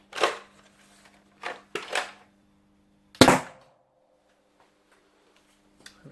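A modded Nerf Cheytac M200 sniper-style blaster fires rounds across a chronograph: four sharp, separate pops a second or more apart over a faint steady electrical hum, close and with no talking.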